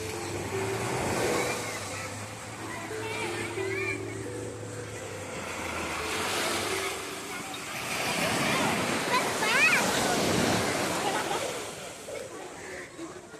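Waves wash and break at Om Beach, a steady surf roar swelling and easing under a crowded shoreline while someone talks over it.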